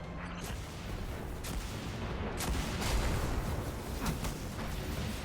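Scorch Cannon firing in Destiny, rough heavy blasts and booms over a dense rumble of game combat, several bursts spaced unevenly and loud.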